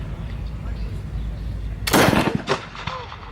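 A muzzle-loading rifle fires with one loud, sharp blast near the middle, trailing into a short echoing rumble over steady outdoor background noise.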